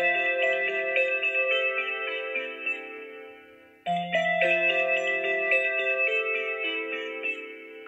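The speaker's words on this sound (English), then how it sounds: "let's play Constellation on the S8 first." Constellation ringtone chimes from a Samsung Galaxy S8 phone at maximum volume, a bright layered melodic tone that plays one phrase, pauses briefly, and repeats, close and clear with no talk.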